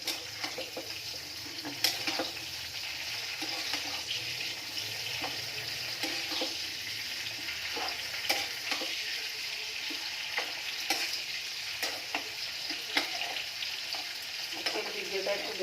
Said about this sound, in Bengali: এবার আমি গরম হয়ে গেছে তেল, নাড়াচাড়া করে নিই।